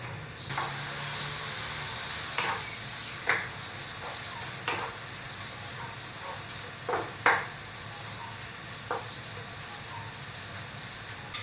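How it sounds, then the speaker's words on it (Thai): Bacon sizzles in melted butter in a pan over low heat, giving a steady close frying hiss with scattered light pops and clicks of a utensil throughout, and no talk. "เนยละลายพอร้อนแล้วก็ใส่เบคอนลงไป"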